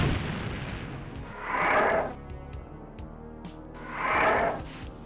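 Plasma gun fire against Revenants in DOOM, heard as two loud, swelling bursts about two and a half seconds apart over a dense, rumbling game soundscape.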